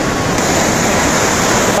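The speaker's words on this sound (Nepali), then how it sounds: "पानीको छाल हेर्नु न" Waterfall water rushing at a newly found falls in Chitwan, Nepal, a loud, steady broadband roar with no pauses, heard up close.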